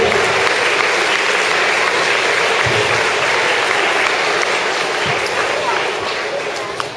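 An audience claps at a school assembly, a sustained, dense burst of applause from a large crowd in an indoor hall that tapers slightly toward the end.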